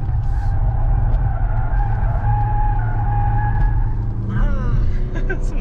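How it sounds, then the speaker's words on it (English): Loud, steady road and tire roar from a 2021 Mazda CX-5 on the move, with a low rumble and a faint whine that run without a break from start to end. "Some noisy tires."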